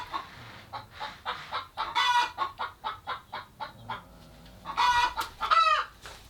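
Chickens cluck in a steady run of short, close calls around a backyard laying nest box, and a rooster crows loudly near the end with no talking.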